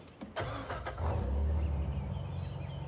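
Jeep engine starting in the video game Uncharted 4, a cranking start rising into a low rumbling idle, moderately loud and steady after ignition.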